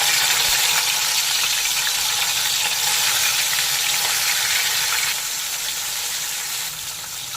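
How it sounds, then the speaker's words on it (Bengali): Rui fish frying in hot mustard oil in a wok gives a loud, steady, close sizzle throughout with no talk, easing slightly toward the end. "তেল গরম হয়ে গেছে, মাছগুলোকে এর মধ্যে ছেড়ে দেবো।"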